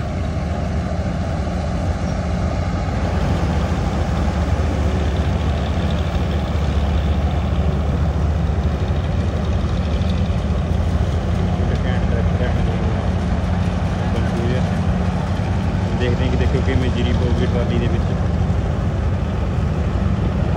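An Arjun Novo 655 DI 4WD tractor engine runs steadily with a loud, continuous low rumble throughout, while voices come and go over it.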